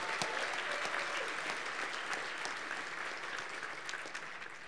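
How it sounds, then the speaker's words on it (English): Sustained applause from an audience at a scholarship breakfast honoring high school students, steady and dense clapping throughout with no talking over it. "Can we have a round of applause for them all"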